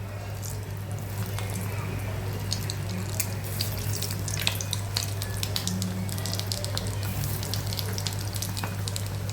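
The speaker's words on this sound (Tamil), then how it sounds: "எண்ணெய் நல்லா காஞ்சதும் அடுப்பை மீடியம் ஃப்ளேமில் வச்சுக்கிங்க. இப்போ நம்ம இந்த உருண்டைகளை இதில் சேர்த்துக்கலாம்." Egg balls fry in hot oil over a medium flame, giving a steady close sizzle with scattered pops and crackles throughout and a low hum underneath.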